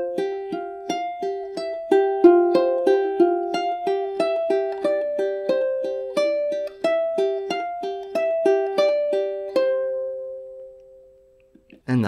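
Solo ukulele fingerpicking a rock riff, clean plucked notes in a steady repeating pattern that ends on a long ringing note and fades, played alone without talk.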